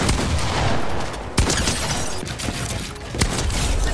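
Pump shotgun gunfire in a video game: two sharp, loud blasts about two seconds apart over a dense background of other shooting and game noise.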